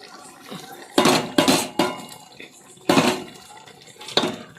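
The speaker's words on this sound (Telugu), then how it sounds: "రైస్ని అయితే దీంట్లోకి యాడ్ చేసేసుకుంటున్నా ఇప్పుడు" Rice is poured into a cooking pot for a village-style chicken biryani, with several loud, sharp rattling bursts of grains and clinking metal against the pot, separated by quieter pauses.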